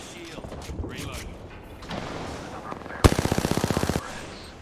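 Rapid burst of automatic gunfire from an enemy squad in a shooter video game: about a second of loud, evenly spaced shots cutting through softer game noise and scattered effects.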